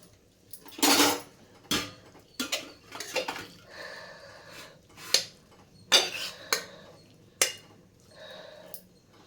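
Metal pots and utensils clank and scrape in sharp, irregular knocks as bottle gourd and split green gram curry is ladled into a bowl, close by with no talking.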